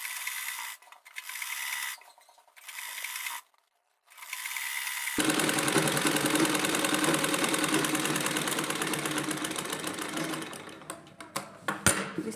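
A sewing machine stitching petticoat pleats starts and stops in short bursts, then hums in a long, fast, steady run of rattling stitches up close.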